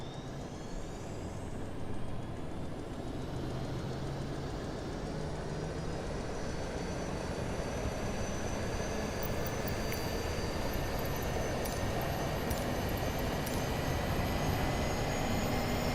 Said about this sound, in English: we'll go ahead and spool up the APU